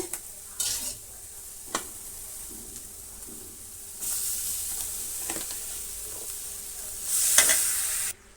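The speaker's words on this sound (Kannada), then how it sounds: "ಈಗ ನಾವು ಬೇಯಿಸ್ಕೊಂಡಿರೋದನ್ನು ಹಾಕೋಣ ಬಾಣಲಿಗೆ" Boiled hattikayi, the curry's pre-cooked vegetable, drops into a hot pan and is stir-fried: bursts of sizzling and hissing rise and fall with scraping stirs, getting louder near the end.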